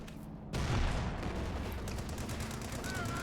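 MG34 machine gun firing in the video game Company of Heroes 2, a sudden burst of dense, continuous rattling gunfire amid battle noise, with faint speech in the background.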